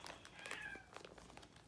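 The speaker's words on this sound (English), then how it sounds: "Sorry, that's my cat meowing in the background." A house cat meows faintly in the background, a few short, thin calls over a quiet room, with no one talking.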